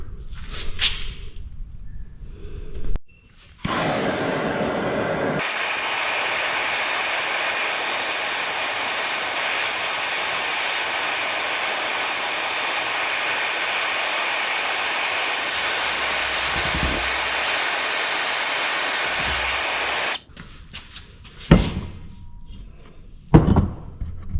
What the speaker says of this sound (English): Torch, piece of round stock of some sort, clamp it in the vise, heat it up, and just roll it over.